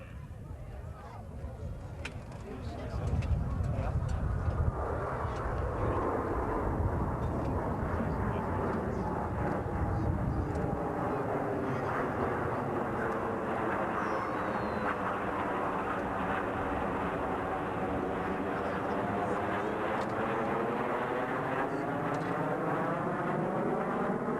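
Blue Angels jets in Delta formation passing over a military air show at Quonset ANGB, a loud roaring jet rumble swelling in and sweeping past with a long descending whoosh, continuous throughout.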